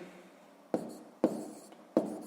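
A pen writes a fraction by hand on paper during a sixth-grade math exercise: close, scratchy strokes in three short bursts, with no talk over them.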